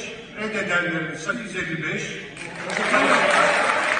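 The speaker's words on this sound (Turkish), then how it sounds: "İçten sevinçten alkış tufanı kopuyor AKP grubunda." Members of the Turkish parliament applaud after a vote result, clapping swelling up from behind an announcer's voice and growing louder toward the end.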